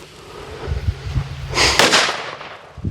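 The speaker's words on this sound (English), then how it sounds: "Silver Cracker by Legend Fireworks." Silver Cracker firecrackers from Legend Fireworks, a rapid crackling string of small sharp pops that builds into a dense burst of bangs, then trails off into a few scattered late cracks, loud and outdoors.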